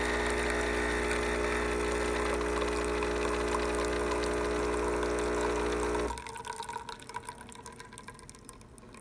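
A DeLonghi Perfecta espresso machine with a leak, its pump buzzing loudly and steadily during infusion for about six seconds before cutting out, leaving quieter dripping and liquid trickling.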